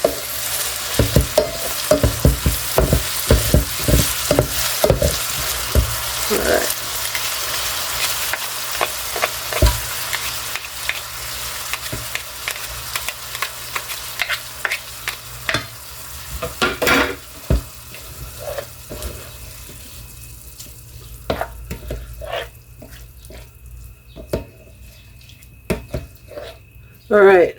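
Ground beef fries in a pan with the heat raised to 300, giving a steady crackling sizzle throughout, punctuated by scraping stirs and clinks of the utensil, with a person speaking briefly over it.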